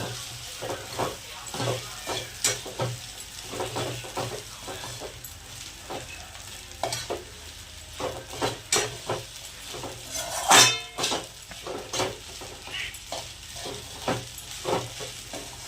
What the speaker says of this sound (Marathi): तर असं मस्तपैकी हलवून घ्यायचं बघा.